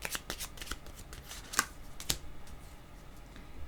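Tarot cards shuffled quietly close by, a rapid run of soft papery flicks and taps with a couple of sharper snaps, no talk over it.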